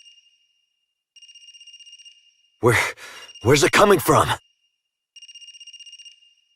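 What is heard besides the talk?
phone ringing in the video game AI: The Somnium Files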